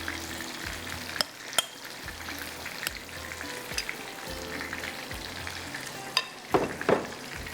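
Kebabs frying in a pan, a constant close sizzle broken by occasional sharp clicks and spatters, with a louder burst of crackling near the end and no one speaking.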